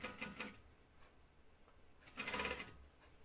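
A sewing machine running in two quick bursts while stitching a 5/8 inch seam on a flight suit, with whirring mechanical chatter at the start and again after a pause, close and fairly quiet.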